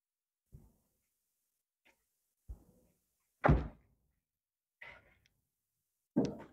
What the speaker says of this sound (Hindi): ये इसका दरवाजा यहां से ही खुलता है